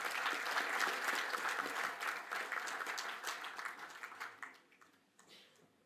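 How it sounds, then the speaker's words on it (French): Audience applause after a signing ceremony at an investment event in Gabon, a full burst of many hands clapping that holds steady and then thins out and fades to scattered claps. "Merci, on peut applaudir cela."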